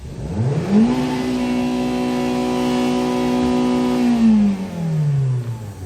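A 12-year-old Kia Pride diesel hatchback with an automatic gearbox revs up sharply, holds a steady high engine drone for several seconds, then winds back down to idle, loud and close with no talking.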